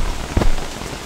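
Rain in the video game Don't Starve, a steady close patter of drops on a surface with one brief louder splash, no voices.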